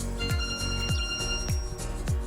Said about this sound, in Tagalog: Sorry para dun sa aking alarm sa cellphone ko.